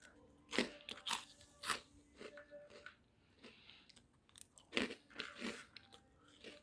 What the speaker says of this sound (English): I just hope that you can feel the crunch and get satisfied from it